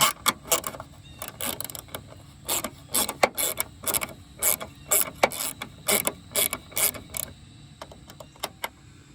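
Two 5.5mm bolts being backed out of the side marker on a 2001-2011 Ford Ranger, giving a run of rapid ratchet clicks in short bursts, close up with no talking.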